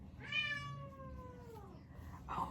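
A cat gives one drawn-out, clear meow that falls in pitch, close and fairly quiet, followed by a brief faint chirp.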